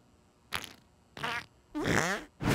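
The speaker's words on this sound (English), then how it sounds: "you can still throw farts" Cartoon fart attacks from South Park: The Fractured But Whole, three loud, close, wet bursts spaced about half a second apart, the last long and rippling, with no talking.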